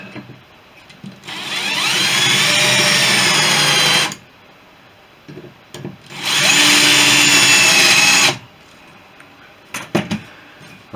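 Power drill boring into wood while building an undercarriage, running in two sustained whining bursts of about three and two seconds, loud and close, separated by quiet gaps with small clicks.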